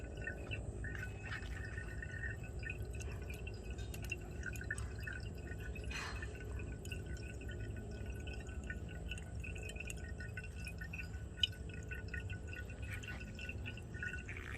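Liquid drips from a burette into a conical flask during an acid-base titration, faint quiet drops and a little glassy tinkling over a low room hum.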